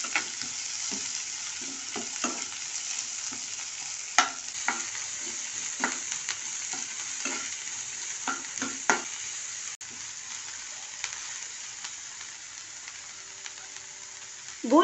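Finely chopped big onions, green chillies and curry leaves sauté in oil for a green peas kurma, a steady sizzle punctuated by regular spoon scrapes and taps against the pan, close up, with no talking.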